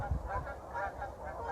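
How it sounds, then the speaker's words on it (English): Geese give a few quick honks, faint and distant, in a short burst, on snowy winter moorland. "And there goes the geese."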